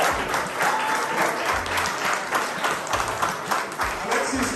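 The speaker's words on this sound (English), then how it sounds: "Please, can you give her a round of applause?" Audience applause at a photography exhibit opening at a multicultural heritage center, a steady dense clapping from a room of people that holds for several seconds, with some voices mixed in underneath.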